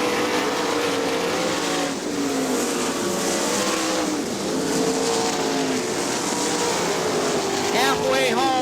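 AVSS 410 sprint cars race in a 30-lap A main event at Crystal Motor Speedway in Crystal, Michigan, a continuous loud roar of engines wailing and shifting pitch as cars pass, with a race announcer talking over the noise.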